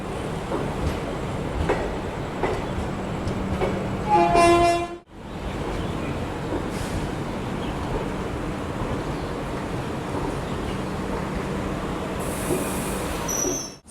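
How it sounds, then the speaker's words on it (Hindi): Unchahar Express being shunted at Chandigarh railway station: steady rumble of rolling coaches with a brief tonal whistle or wheel squeal midway, a sudden dropout, then continued low rail noise and a faint high hiss near the end. "अपनी ऊंचाहार एक्सप्रेस को संटिंग किया जा रहा अपनी चंडीगढ़ रेलवे स्टेशन पर"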